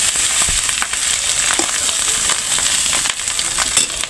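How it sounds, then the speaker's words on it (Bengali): Loud, steady sizzling from an egg frying in hot oil with green chillies and onion, with small crackles and stirring scrapes throughout and no talking. "এখন ডিমটা যখন হালকা ভাজা হয়ে গেছে, এর মধ্যে আর কি কাঁচামরিচ আর পেঁয়াজ দিয়ে দিচ্ছি।"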